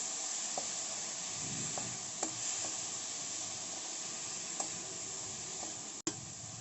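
Chopped tomatoes with turmeric sizzle and fry steadily in a hot pan, a continuous close hiss broken by occasional soft clicks of a spoon stirring, with no voices.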